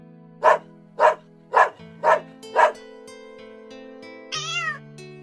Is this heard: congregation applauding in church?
no